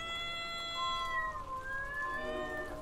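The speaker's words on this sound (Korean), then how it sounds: "고양이 울음소리." A cat meows repeatedly on a rainy night at around 2 a.m., long drawn-out wavering cries rising and falling, fairly clear and close, with no one talking.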